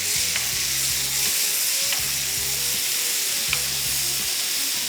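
Beef satay pieces sizzle steadily in a hot pan, a continuous close frying hiss with faint occasional pops and no voices.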